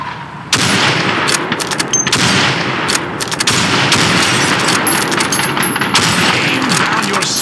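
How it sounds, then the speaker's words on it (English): Rifle fire at bottles and plates on a Winter War shooting range in Call of Duty 2 cracks out loud and fast, with dense overlapping shots and sharp impacts in a near-continuous volley. "Shoot those bottles and plates."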